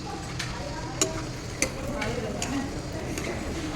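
Chicken pieces frying in a pan for curry in a hostel kitchen, a steady low sizzle with a few sharp stirring clicks and taps, moderately close.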